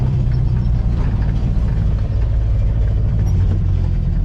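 An old vehicle's engine running while it drives, a loud, deep rumble that holds steady and close for the whole few seconds.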